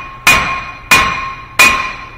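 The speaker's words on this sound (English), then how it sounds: "Now if your rotor don't come off, get you a hammer." Hammer striking a brake rotor on a 2015 Subaru Forester during a front brake job, three loud sharp metallic blows spaced evenly with a ringing decay after each.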